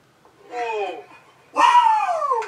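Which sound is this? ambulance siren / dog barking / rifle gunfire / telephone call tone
dog barking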